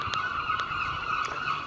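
Geese or similar large birds honking repeatedly outdoors, several short calls spaced through a steady background hum, moderately loud and close.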